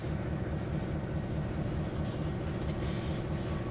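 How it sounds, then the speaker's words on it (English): A train rumbles past steadily in Train Sim World 5, a continuous close rolling roar with faint squeal and clatter, no pauses. "Right, I think we got a train coming through."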